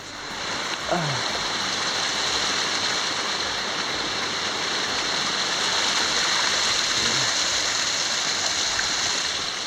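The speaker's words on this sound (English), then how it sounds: "So I got to this water source, beautiful spring. Because the weather's warmed up a little bit, it's just flowing nice." A clear spring gushes straight out of rock along a winter trail, a steady, close rushing and splashing of water that continues unbroken throughout.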